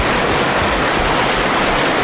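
A strong current on the Angalakan river rushes loudly and close, a dense, unbroken watery roar with no voices over it.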